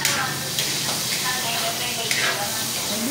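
Onions sautéing in a hot pan give a steady, close sizzle and hiss with occasional stirring scrapes, continuing throughout.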